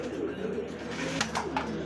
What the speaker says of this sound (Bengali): দেখতে পাচ্ছি এখানে আরো একজোড়া রেসার কবুতর